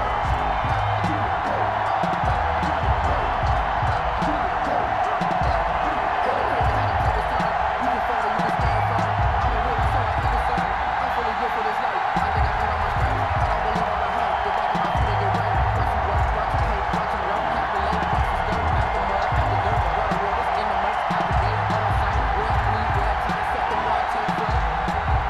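A Baltimore crowd at M&T Bank Stadium in a Madden NFL game, Ravens against Browns, gives a steady, continuous roar of cheering. It runs unbroken under a voice throughout.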